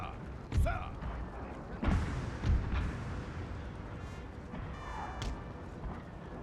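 Canister shot from artillery fires in the Napoleon: Total War battle, with three dull, heavy booms spaced about a second apart over a constant rumble of battlefield noise. Quieter reports and crackles follow, and speech is likely present.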